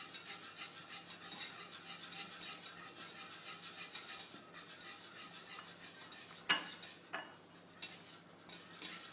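Butter being stirred into a pan sauce reduced by about three quarters, a soft, continuous scraping and rubbing of a utensil against the pan with faint sizzling, punctuated near the end by a couple of sharper clinks.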